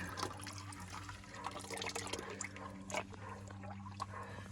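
Engine oil pouring into a Shifeng 350 engine during an oil change, a steady liquid trickle and splash heard close up against a low background hum, with no talking.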